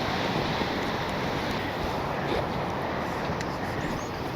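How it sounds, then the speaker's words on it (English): Strong, steady wind roaring into the microphone on an exposed hilltop in the Black Hills of South Dakota, a loud unbroken rush with no pauses. "Trying to keep the wind from blowing me over."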